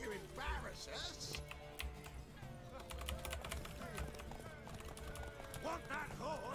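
Horse hooves clip-clopping in a medieval fantasy game world, a steady rhythmic galloping under game music and overlapping character voices.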